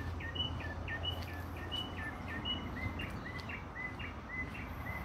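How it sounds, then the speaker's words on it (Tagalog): Birds call outdoors in a quick run of repeated high chirps, fairly clear over a steady low background hum, with no talking. "Ayan mga ibon."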